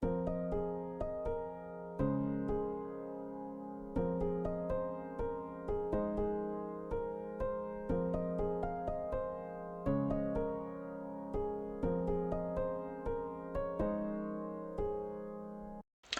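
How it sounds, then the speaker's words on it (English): A bright, bouncy chillhop piano melody plays alone in a steady rhythm, with clear repeating notes over sustained chords, moderately loud and close. "We now have this interesting upbeat melody which really fills out a nice space in the track."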